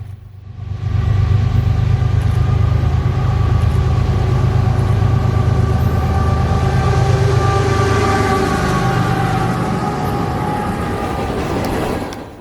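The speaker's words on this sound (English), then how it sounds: "This day's B482 would be led by CSX ES44AH number 831, and the trailing engine would be CSX AC4400 number 12" A CSX freight train led by an ES44AH locomotive with a trailing AC4400 roars past close by, a loud sustained diesel rumble with rolling wheel noise building in and holding steady for several seconds.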